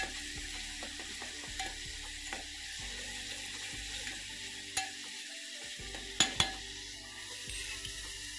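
Onions fry in a pan until soft and reddish, a quiet, steady sizzle with scattered clinks and scraping taps from stirring.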